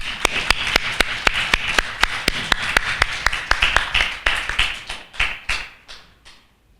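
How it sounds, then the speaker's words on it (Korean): Steady, evenly spaced claps ring out in a church service to welcome a guest speaker, a single clear rhythmic clapping that slows and fades toward the end. "우리 박수로 환영하겠습니다"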